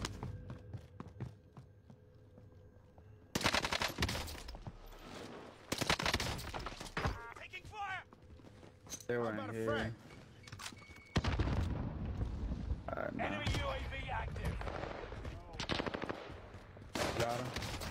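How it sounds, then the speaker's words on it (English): Rapid bursts of automatic gunfire and sharp shots ring out in the video game Apex Legends during a ranked match, loud and repeated in clusters, with players talking over them. "Taking heavy fire."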